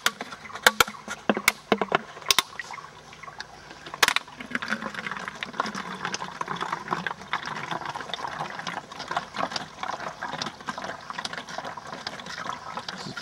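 Water pushed through an MSR Miniworks EX microfilter into a bottle, a rhythmic hand-pumped trickle and splash with a few sharp clicks early on, close and steady throughout.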